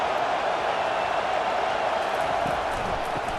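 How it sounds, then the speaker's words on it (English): Roaring stadium crowd at a college football game between Mississippi State and Alabama, a dense, steady wash of cheering voices held at a constant loud level throughout, with no single voice standing out. "listen to this crowd roar"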